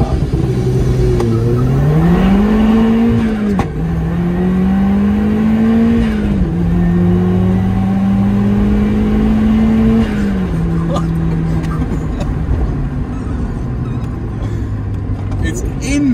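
A DIY turbocharged Mazda Miata MX5 launches using launch control and accelerates hard from 0 to 100, its engine note climbing through rising, loud revs with brief dips at gear changes before settling into a steadier drone.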